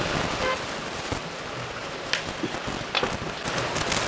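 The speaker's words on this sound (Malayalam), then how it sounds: "ഇപ്പം എന്തേ മഴയും" Steady rain patters on a surface, a constant wash of noise with a few louder drops.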